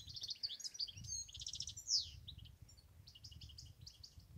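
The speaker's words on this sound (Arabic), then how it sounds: "معكم طائر الحسون المغربي" A Moroccan goldfinch trills and twitters in quick, bright bursts of high notes, fairly faint, over a low rumbling background, in the wild in Morocco.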